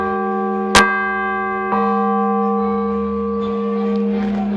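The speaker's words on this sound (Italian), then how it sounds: "E anche la campana maggiore è stata fusa da Pietro Colbachini nel 1922. Questo è il suo suono." The largest church bell at Sauris di Sotto near Udine, cast by Pietro Colbachini in 1922, gives two loud clanging strikes that leave a long, ringing hum with shimmering overtones slowly fading, near and alone.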